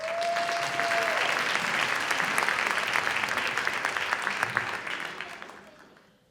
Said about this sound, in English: Let's all give a big round of applause to our next contestant